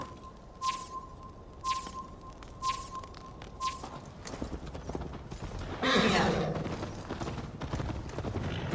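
Horse hooves clip-clop in a steady rhythm with a whinny in the Viking-era game Assassin's Creed Valhalla, the ride first punctuated by repeated tonal chimes, then building into louder, denser galloping noise.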